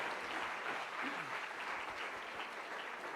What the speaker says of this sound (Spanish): ¿Cuánto le damos un aplauso fuerte al Señor?